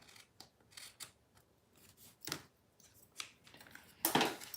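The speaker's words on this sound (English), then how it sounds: "I'm just trimming these just a little bit more." Scissors snip through a paper pillow box in a string of close, crisp cuts, several short bursts spaced unevenly, with no voices.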